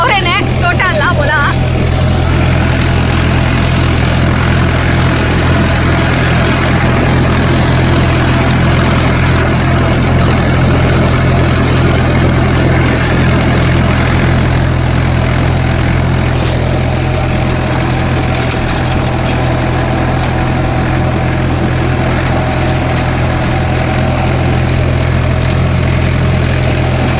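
A tractor running a rotary tiller in a farm field holds a steady, loud, low engine drone that never lets up, with people talking over it throughout.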